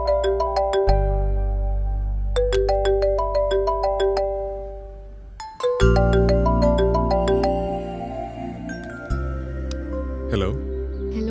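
A mobile phone ringtone in a Malayalam film plays a repeating melodic chime pattern, loud and close, cycling several times before the tune shifts with a low musical tone underneath.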